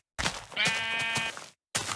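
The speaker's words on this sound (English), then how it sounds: "We have 1 sheep over here." A single Minecraft sheep bleats once, a clear, wavering, fairly loud baa lasting under a second, framed by short blocky game sounds before and after.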